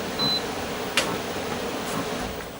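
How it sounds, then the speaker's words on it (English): An air conditioner runs with a steady broadband whoosh and hum, a short faint beep near the start and a brief click partway through, no voices present. "Turn off my air conditioner."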